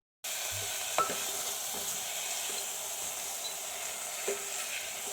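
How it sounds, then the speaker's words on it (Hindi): Fava beans fry with browned onion in a pan, a steady sizzling hiss that starts abruptly and holds, with a few soft knocks of a spoon against the pan. "बस फली डालने के बाद में मैं इसको हल्की देर फ्राई करूँगी"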